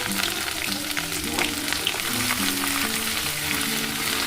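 Ginger paste hits hot oil in a frying pan while greens curry cooks, making a steady, loud, close sizzle with a few faint stirring scrapes and no talking.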